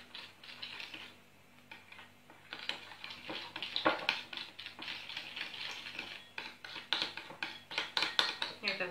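A spoon stirs a yeast and sugar mixture in a bowl, making quick rhythmic metallic clinks and scrapes that grow busier and louder toward the end.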